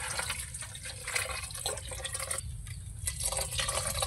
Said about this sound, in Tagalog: Ug tubig mga idol, butangan ta.